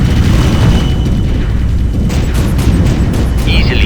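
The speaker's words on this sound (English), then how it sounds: "We're under heavy fire." Heavy fire and explosions in the real-time strategy game Ground Control 2 make a loud, continuous low rumble of booms and blasts that fills the whole clip, with faint voice-like chatter mixed into the din.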